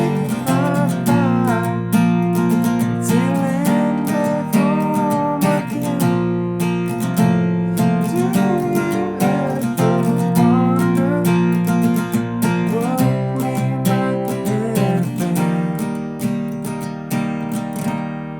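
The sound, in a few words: guitar playing bridge chords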